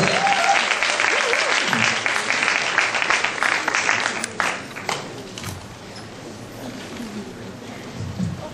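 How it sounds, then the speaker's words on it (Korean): A church congregation applauds warmly as a guest lecturer comes forward, dense clapping that is strong at first, then thins and fades to a lighter scattered patter with a voice briefly over it. "뜨겁게 박수합니다."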